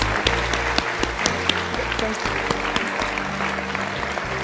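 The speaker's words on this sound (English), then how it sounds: "Let's give them all another round of applause." Guests at the South Australia Australian of the Year Awards ceremony give the finalists another round of applause, a steady bed of clapping with some sharper individual claps standing out near the front.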